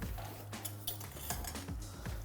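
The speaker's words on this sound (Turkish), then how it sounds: "Güzelce kavuruyorum tereyağı ile beraber" A spoon stirs flour roasting with butter in a pot, making quiet, repeated scraping and clinking against the metal close by over a soft background hum.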